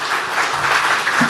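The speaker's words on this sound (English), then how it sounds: "Round of applause, please." Close, loud burst of audience applause at a Ghanaian presidential investment forum in Yokohama, Japan, a brief dense wash of clapping with no speech over it.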